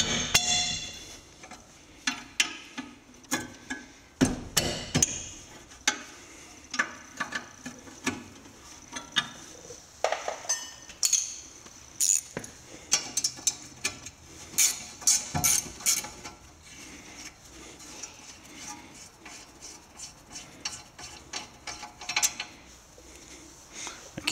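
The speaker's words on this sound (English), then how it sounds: "Now I'll be taking off this caliper bracket, which is two 17 millimeter bolts." Two 17 mm bolts on a caliper bracket are loosened and removed while a lower control arm kit is installed, giving scattered metallic clinks, wrench clicks and tool taps close by, irregular over about 24 seconds with no talking.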